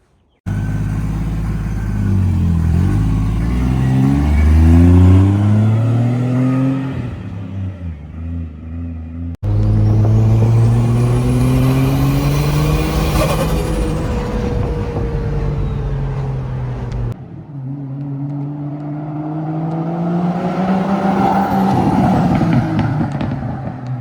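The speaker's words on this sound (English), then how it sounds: "So now I should be able to give the car a start. We'll give it a listen." A 360hp FZ car engine cranks, catches and runs, swelling through rising and falling revs in three long passes with brief cuts between them, close and loud throughout.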